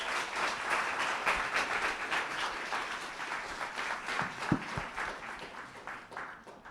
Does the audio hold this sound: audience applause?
yes